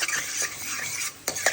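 Masala frying in a pan, with a bright hissing sizzle and quick metallic scrapes and taps of a spoon stirring against the pan, close and brief, with no talking.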